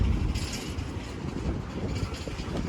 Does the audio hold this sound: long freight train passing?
yes